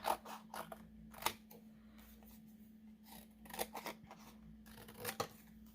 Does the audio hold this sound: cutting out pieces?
yes